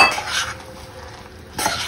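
Roasted sesame seeds and peanuts tipped into a metal pan while making til ladoo, clinking and rattling from utensil and pan in two brief bursts, close, with quiet between.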